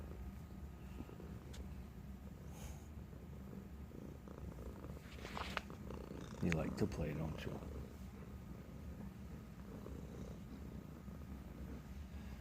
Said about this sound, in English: We'll listen to him purr.